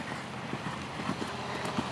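Horse hooves pounding over turf on a cross-country eventing course, a rapid series of dull thuds set against steady open-air background noise.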